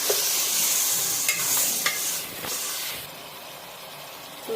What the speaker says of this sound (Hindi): और इसको अच्छे से मिक्स कर देंगे।